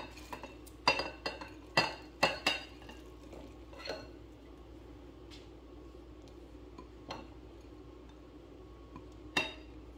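A spoon scrapes and clinks against a pot or bowl as leftover long-grain white rice is stirred into a rice pudding mixture, in irregular sharp taps that thin out, close and fairly quiet with no talk.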